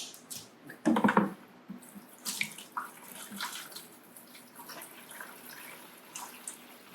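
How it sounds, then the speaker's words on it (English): Water gurgles and splashes through an aquarium siphon draining a fish tank, with a burst of sloshing early on and then softer trickling and drips, fairly faint and close. "The not so fun part is getting the siphon going."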